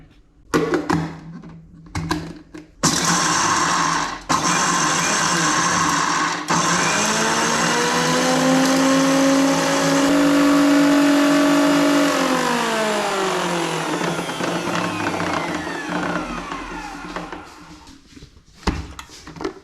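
Mixer grinder grinding roasted peanuts for peanut butter, starting with a few stuttering bursts, then a loud steady motor whine that dips in pitch under load and slowly winds down near the end.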